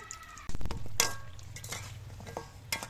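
Puli pitha dumplings fry in a pan, a soft sizzle broken by sharp clinks and scrapes of a utensil stirring against the pan, with a few louder knocks spaced through the short stretch.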